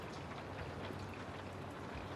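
Rain falling onto a surface in a city at night, a dense, steady hiss of drops at moderate closeness with no voices.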